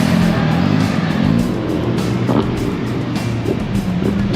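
A rotary-engined car runs at a Sydney car show, its steady buzzing drone loud and continuous throughout, with crowd noise around it.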